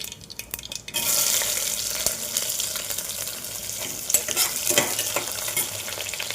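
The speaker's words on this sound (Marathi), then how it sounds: "जिरं, कांदा परतत टाकून देऊ." Cumin and onion sautéing in a hot pan for green peas rice, a sizzle that bursts in suddenly after a second and holds steady, with stirring scrapes and clicks, close and clear, no voices.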